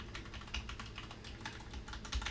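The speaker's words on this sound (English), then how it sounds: "Now I can use the keyboard to type into the PlayStation." Rapid typing on a Corsair computer keyboard used with a PlayStation and PC, a steady run of quiet, close key clicks with a few heavier strokes, alone with no talking.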